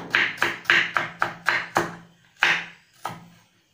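Knife chopping through banana peel for banana-peel pakoda, about seven sharp, evenly spaced cuts, close and clear with no voice.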